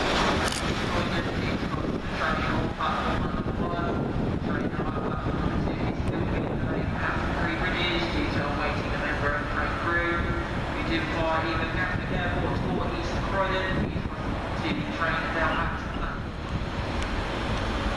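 Class 377 electric multiple units roll through Three Bridges station on a Victoria to Brighton service, a long steady rumble and rush with faint rail squeals, heard under wind buffeting on the microphone.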